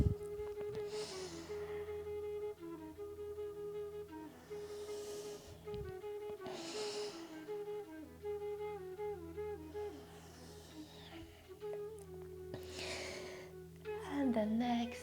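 Deep, breathy exhales during a prenatal yoga session for pregnancy back pain, several soft rushes of air spaced a few seconds apart, close and fairly quiet over a steady, sustained instrumental music bed.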